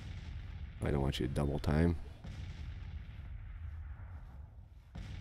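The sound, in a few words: artillery canister fire, Grand Tactician video game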